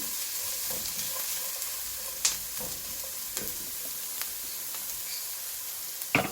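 Onions frying in a pan for green chicken gravy, a soft steady sizzle with a few sharp clicks of a utensil against the pan, faint and close.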